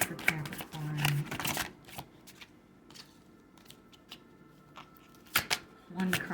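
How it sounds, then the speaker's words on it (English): Tarot cards shuffled by hand in repeated bursts of crisp riffling and slapping, with brief pauses between shuffles, close and fairly quiet, with a soft voice heard faintly at moments. "One more shuffle. Shuffling for Capricorn."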